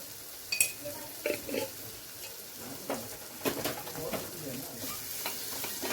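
Spices and half a spoon of chilli powder sautéing in a pan for homemade dal, a soft hiss broken by intermittent spoon scrapes and knocks, with a bird cooing faintly in the background.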